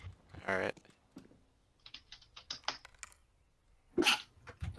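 A single sharp sneeze bursts out during a Counter-Strike match, amid scattered keyboard clicks and brief voice chat.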